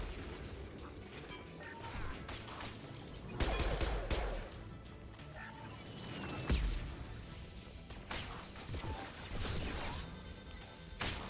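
Mass Effect 2 combat brings bursts of gunfire, heavy impacts and booming crashes in an irregular, dense barrage, with several loud peaks over roughly eleven seconds.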